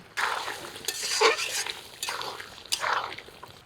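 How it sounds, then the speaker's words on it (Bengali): A spoon stirs and scrapes mutton curry with new potatoes and spices in a pot, with bursts of sizzling and clattering strokes recurring close up every second or so. "এবার গামলা ধোয়া জলও দিয়ে দিয়েছি এবার আরও বেশ কিছুক্ষণ সময় কষিয়ে নিব"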